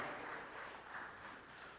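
Broad, steady applause from an audience at an infrastructure awards ceremony, a soft wash of many hands clapping at a distance, fairly faint and continuous throughout.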